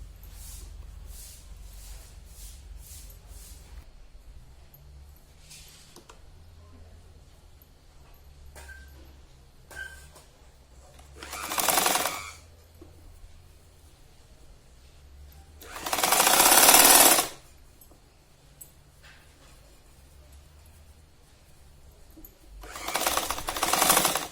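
A sewing machine stitches a seam on a fabric roti cover in three separate runs, each a loud, buzzing burst of a few seconds, with quiet handling sounds in between.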